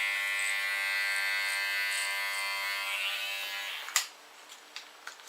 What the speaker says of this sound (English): even with a clipper comb, you have to get into the lines of the hair